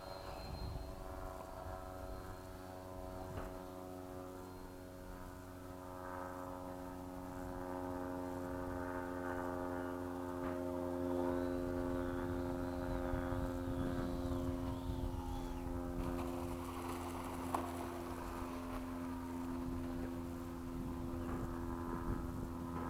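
A Freewing 80mm F-5 RC electric ducted-fan jet flies in to land at an airfield under cloudy skies, its steady whining drone holding at moderate distance throughout with a slight swell midway.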